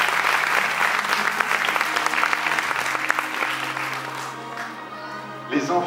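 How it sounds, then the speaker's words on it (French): An audience at a magic show bursts into loud, sustained applause for a female magician, a thick wash of clapping that gradually thins out toward the end as a voice begins speaking. "Mesdames, Messieurs, un tonnerre d'applaudissements pour notre seconde magicienne."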